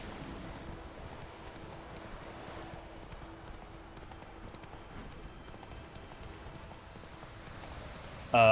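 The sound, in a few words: Roach the horse's hooves clip-clopping in video game The Witcher 3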